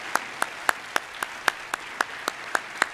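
An audience at a youth conference claps in an even, steady rhythm, each sharp clap evenly spaced and fairly close, with no speech over it.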